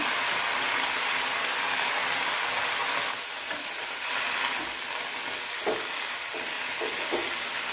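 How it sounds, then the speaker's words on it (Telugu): Tomatoes frying in a pan for a peanut and ponnaganti leaf chutney, a steady close sizzle with faint scraping from stirring and a few soft taps against the pan. "ఇప్పుడు టమాటాలు అందులో వేసుకొని మొత్తం కలబెట్టాలి"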